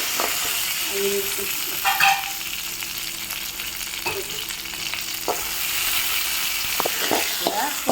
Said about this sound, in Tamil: ஒரு காஞ்ச மிளகா, 2 கருவேப்பிலை, தாளிச்சு